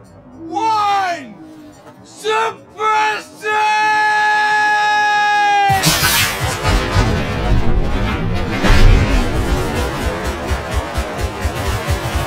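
A rocket launcher fires in a Battlefield 3 combat scene, a sudden loud broadband blast that follows a countdown from voices, then a sustained roaring rumble with scattered crackling impacts trailing off.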